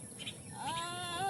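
A goat bleats once at a rural village market in the rainy season in the Sundarbans, a wavering, nasal cry rising midway and holding to the end, fairly close, over a faint murmur of background voices.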